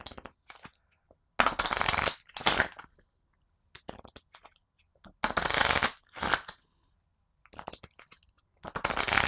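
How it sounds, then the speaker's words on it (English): Playing cards for the board game Champions of the Hundred Hamlets are drawn and discarded in repeated bursts: quick riffling, sliding and snapping of card stock, near and crisp, separated by short silences. "I'm going to draw 4 cards and discard 2"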